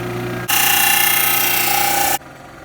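A power tool cuts roughly through wood to shape the side pieces of wooden sunglasses, a loud close burst of high whining lasting under two seconds between quieter motor idling.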